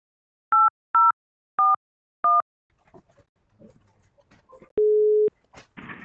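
Four short two-tone dialing beeps of a telephone placing a test call between IP PBX systems, evenly spaced, followed by faint clicks and then a single longer steady tone, all clean and close with no talk.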